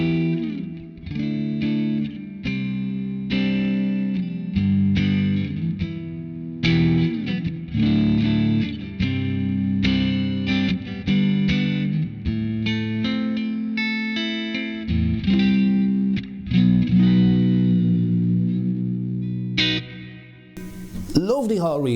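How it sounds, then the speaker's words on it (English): Electric guitar runs through a NUX Atlantic pedal set to a spacious hall reverb, playing a steady run of chords and single notes with a lingering ambient tail, loud and close throughout. "Lovely hall reverb, again,"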